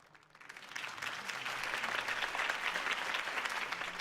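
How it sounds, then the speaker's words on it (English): Crowd applause after a campaign speech in the video game Batman: The Telltale Series, swelling from quiet into a steady, dense wash of clapping that holds loud for several seconds. "If only Mr. Wayne, my campaign's largest backer, could have heard that applause"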